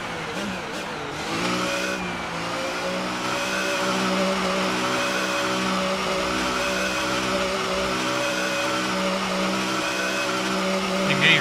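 Sustained engine drone of a Ferrari Formula 1 car at the Brazilian Grand Prix in a racing video game, loud and steady with harmonic whine, a brief revving swell early on, continuous throughout with no break.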